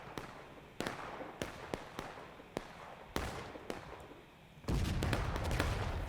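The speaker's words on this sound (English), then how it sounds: "Union artillery getting a kill." Civil War gunfire in a multiplayer battle video game: sharp scattered musket cracks at irregular intervals, some near and some distant, then a denser rumbling burst of artillery and volley fire near the end.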